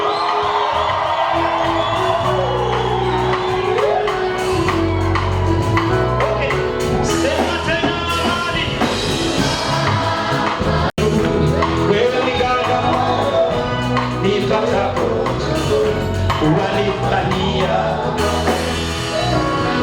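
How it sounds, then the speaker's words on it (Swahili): A gospel concert crowd cheers and whoops loudly over continuous amplified music, with shrill high voices that could be ululation rising in bursts throughout. "Acha nisikie vigelegele kwa Yesu"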